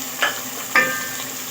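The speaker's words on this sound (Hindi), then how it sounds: "तो मैं इसको प्याज को जो है थोड़ा फ्राई कर लूँगी" Onions frying in a little oil for chicken chana biryani make a steady, close background sizzle, broken by two brief scraping stirs of a spoon against the pan.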